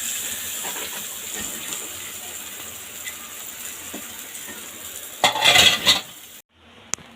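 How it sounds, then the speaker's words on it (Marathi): Hot tempering of oil with asafoetida and a dried red chili is poured onto chutney, heard as a sudden loud burst of sizzling near the end of a quiet kitchen stretch of faint clinks and stirring, with no talking. "हे बाकी आपण अशी चटणीवर टाकून घेऊया"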